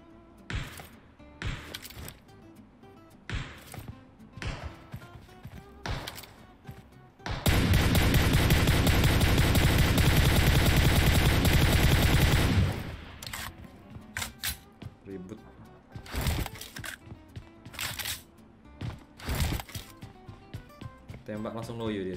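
M4 rifle gunfire in PUBG Mobile, scattered sharp single shots and short bursts, then a sustained loud roar of noise for several seconds, with someone talking throughout.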